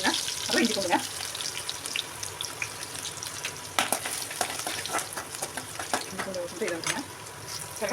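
Onion, ginger and chilli fry in a pan with a soft, steady sizzle, and occasional scraping stirs and clinks of a spoon sound close by at moderate loudness, with no talk.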